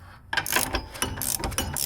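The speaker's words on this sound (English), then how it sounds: "I'm going to put my ratchet here and basically just drive that bushing out of the subframe." A hand ratchet clicks in quick uneven bursts while driving a rear differential bushing out of the subframe of a BMW E9X/E82. The sharp mechanical ticks are close and fairly quiet, with no talking.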